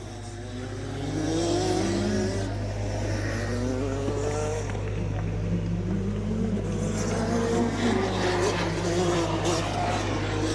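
Rotax Max racing karts at a kart race, engines droning loudly and steadily as they speed past with rising and falling pitch, some crowd or commentary noise faintly underneath.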